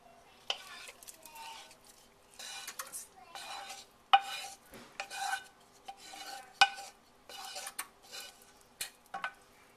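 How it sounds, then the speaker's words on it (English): Onions, carrots and broccoli stirred into a pot of simmering broccoli cheddar soup: a string of close scraping, clinking spoon strokes in uneven bursts, moderately loud, with no talking. "I'm going to stir this together"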